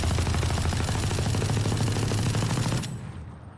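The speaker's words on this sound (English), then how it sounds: "So you can actually shoot through this wall." Sustained automatic LMG fire in the tactical shooter Valorant, rapid dense bursts pouring through a wall, loud and continuous for almost three seconds before cutting off into a brief fading tail.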